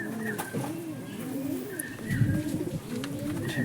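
A pigeon with raw yellow eyes coos repeatedly up close, its soft rolling calls rising and falling in a steady rhythm, with faint voices nearby.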